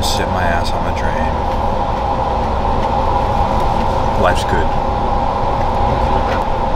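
Continuous rumbling and rattling of a moving train carriage, with steady hum and a few clacks, under a short spoken remark.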